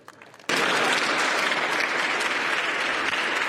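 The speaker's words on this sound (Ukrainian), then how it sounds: "Єдиний, хто не аплодує Зеленському, це прем'єр Угорщини Віктор Орбан." Loud, dense applause from leaders gathered at a European Union summit bursts in suddenly after a quiet moment and holds steady as a continuous wash of clapping to the end.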